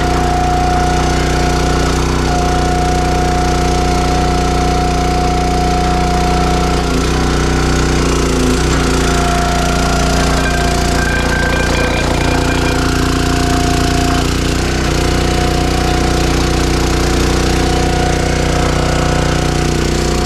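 A Dirty Hand Tools 22-ton log splitter's small engine runs continuously and loudly, a steady droning hum with a fixed pitch and faint mechanical knocking, alone without any talk.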